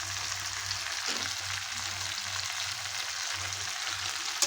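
Pieces of gandhoraj chicken coated in meat masala and tomato ketchup fry in a pan with a steady, close sizzle, with faint low scraping now and then as they are stirred. No one speaks.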